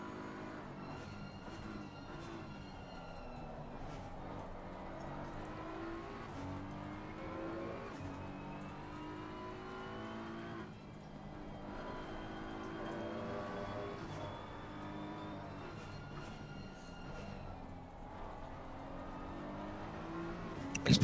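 A race car engine in the Assetto Corsa Competizione racing game, revving and dropping through downshifts at the Kyalami circuit, its pitch sliding up and down as a steady, fairly loud drone with no talk.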